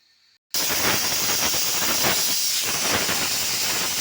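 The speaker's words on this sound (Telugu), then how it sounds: "ఇలా 2 విజిల్ రావాలి." A pressure cooker holding potatoes and raw pigeon pea curry lets out a loud, steady steam hiss that bursts in abruptly after a brief quiet moment and keeps rushing on without a break.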